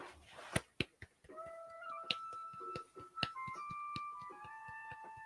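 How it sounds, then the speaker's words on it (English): At a small winter chess tournament, a few sparse, sharp, polite claps ring out separately, quiet and unhurried, with faint tonal sounds drifting underneath. "The quiet, polite clapping."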